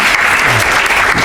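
Audience at a Transformers convention panel at TFcon Chicago breaks into dense, loud applause, a continuous wash of clapping through the brief moment.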